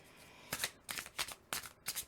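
Tarot cards shuffled and drawn by hand, four or five quick crisp riffling bursts in close succession, near and clear with no talking.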